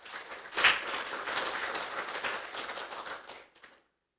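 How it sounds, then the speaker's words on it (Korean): A lecture audience breaks into applause, a brief burst of many hands clapping that swells quickly, holds for a few seconds and then fades away, moderately distant with no voices over it. "박수 한번 쳐주시기 바랍니다."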